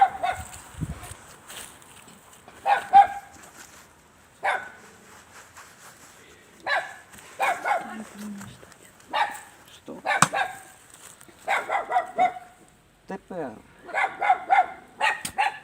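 Several dogs bark in short, scattered bursts, some close and loud, others sharper yips, while a person speaks in between.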